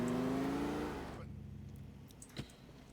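A car engine in the police-mod video game LCPDFR drones loudly with a rising pitch, then cuts off abruptly after about a second, leaving quiet ambience and a single soft thump.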